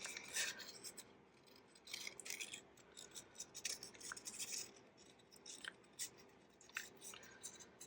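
Scissors snip off the end pieces of a paper craft piece, giving a series of short, crisp cuts at an irregular rhythm. The snips are close and fairly quiet over a soft background.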